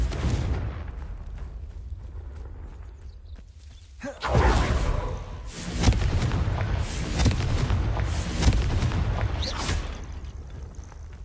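A Confringo fire spell bursting in Hogwarts Legacy: after a quieter stretch, a loud whooshing explosion hits, followed by several more rumbling blasts and crackling bursts in close succession, with no speech.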